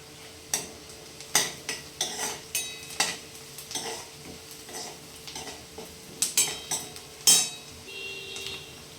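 Onions fry until brown in a pan, with a spoon repeatedly scraping and stirring through soft sizzling.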